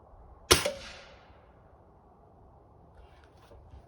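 A single sharp shot from a Xisico XS46U air rifle fired at targets, a crisp snap followed by a brief ring-out and fading tail, then quiet with faint background hiss.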